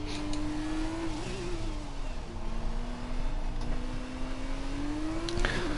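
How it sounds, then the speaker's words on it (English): Formula 2 race car engine at the French GrandPrix circuit, a steady high-pitched drone holding a fairly constant tone with slight pitch shifts, heard from a distance on track throughout. "It's just your local Aaron McFall driving a Formula 2 car"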